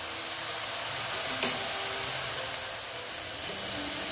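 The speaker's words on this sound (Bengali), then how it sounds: "এখন বেগুনটা এভাবে ভালো মতো নেড়ে চেড়ে দিচ্ছি" Eggplant sizzles in a hot pan as it is stirred, a steady soft frying hiss with one brief utensil scrape near the middle, close and fairly quiet.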